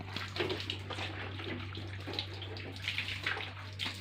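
Water sprayed from a hose onto a car during washing, a continuous close hiss and splatter lasting the whole stretch, with a steady low hum beneath.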